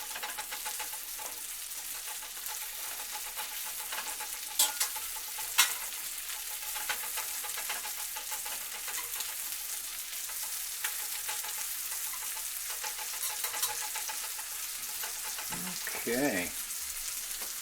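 Shrimp sizzling steadily in a hot pan for lemon garlic asparagus pasta, a constant bright crackle with a couple of sharp utensil clinks and stirring scrapes, and a brief spoken word near the end.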